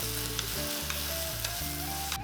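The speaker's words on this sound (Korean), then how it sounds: "그리고 버섯을 넣고 볶아줍니다." Mushrooms and paprika stir-fry in two tablespoons of oil in a frying pan, giving a close, steady sizzle that runs unbroken beneath soft background music.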